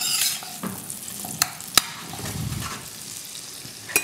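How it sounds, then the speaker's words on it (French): Food rolled in melted butter in a frying pan in a restaurant chef's kitchen, with a steady close sizzle, stirring scrapes and a few sharp utensil clicks against the pan. "on va juste les rouler dans le beurre légèrement"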